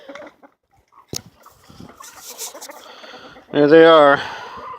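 A flock of backyard chickens scrambles over a pile of dumped restaurant food slops, with scattered clucks and rustling and a brief loud squawk near the end. Someone speaks briefly over the commotion.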